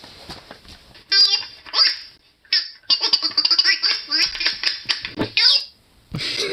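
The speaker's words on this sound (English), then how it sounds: "This mutt goes crazy for it." A small dog barks, yelps and squeals in rapid, excited bursts close by, a frantic overexcited stream of yips with brief pauses.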